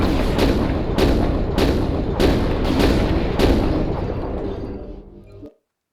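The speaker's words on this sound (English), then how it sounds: "You can basically shoot all the weapons from one position" Weapons on a Banshee mech fire in MechWarrior Online, a run of heavy booming shots at roughly half-second to one-second intervals over a rumbling background, loud and close, then cutting off to silence.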